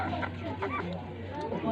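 A pet chicken clucks softly and repeatedly close by, with a low hum beneath and a person talking faintly.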